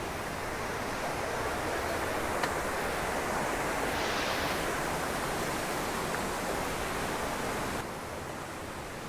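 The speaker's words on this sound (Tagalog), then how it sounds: "Dalawang umaagos, napakalakas." Water rushes loudly and continuously at Estrella Falls in Palawan, a dense, even roar of a waterfall heard close up with no speech over it.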